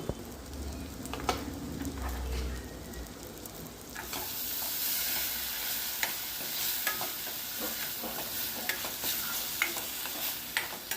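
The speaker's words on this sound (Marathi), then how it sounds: "हे वाटण मी दोन चमचे या फोडणीमध्ये घालून घेते" Two spoonfuls of ground spice paste go into hot oil tempering for a spicy Maharashtrian chickpea usal. The sizzle is quiet at first, then swells into a brighter, steady hiss after a few seconds, punctuated by light stirring clicks.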